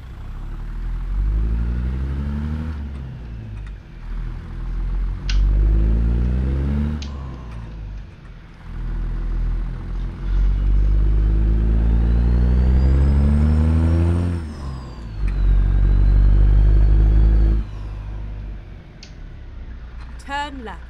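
A car engine revs hard in repeated surges, rising and falling over several long pulls with brief gaps between, close and loud, while a voice speaks over part of it.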